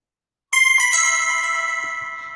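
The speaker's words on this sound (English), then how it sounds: "after you send it, it'll make a beautiful little sound that sounds like this." Trading app notification chime sounding when an order is sent, one bright electronic ding-dong that opens after a brief silence and rings out clear, close and alone.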